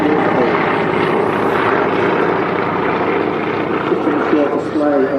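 A 72-year-old Douglas DC-3 propeller airliner at Manchester Airport, its piston engines giving a loud, steady, throbbing drone throughout, with a voice talking over it.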